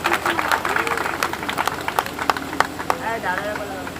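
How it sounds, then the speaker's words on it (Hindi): Loud applause rises from a crowd at a devotional Radha Krishna tableau event, steady clapping running the whole time with sharp individual claps and a speaking voice over it. "इसके लिए एक बार जोर से तालियां"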